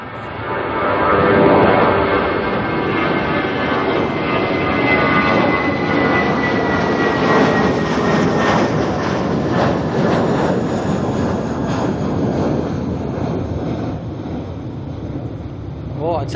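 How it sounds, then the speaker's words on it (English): Airbus A320 airliner engines roar steadily at Auckland Airport, a loud broad rushing jet noise that holds for the whole stretch and eases slightly toward the end, with no clear talk over it. "that sound we're getting from those A320s today, I am not complaining at all."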